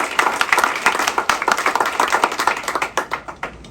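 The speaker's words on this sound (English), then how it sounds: "a round of applause" Audience clapping at the opening event for a state-sanctioned overdose prevention center, a fairly small group with individual claps distinct and rhythmic, close and continuous.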